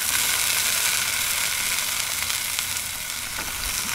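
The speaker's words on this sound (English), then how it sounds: "Give it just a nice sizzle." Beer brats sizzling on a 22-inch Blackstone griddle over medium to medium-high heat, a loud, steady frying hiss with small crackles, continuous and close, with no talking.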